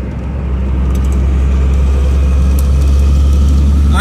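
Truck driving on a São Paulo road, its engine droning loud and steady with a deep low rumble throughout; no distinct gear change stands out.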